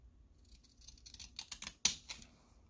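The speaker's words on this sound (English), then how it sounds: "Let's give this a cut with these. This is like a, I'm going to cut with a faux, what would you call this? A pinking shears type." Pinking shears snip through paper for a bee-themed junk journal, with a few soft crisp cuts building to one sharp louder snip and a couple of trailing clicks, close and quiet.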